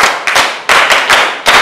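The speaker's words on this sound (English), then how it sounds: "Shall we clap for her?" A group claps for a student in a classroom, a few quick bursts of applause starting and stopping close by, with no talking over them.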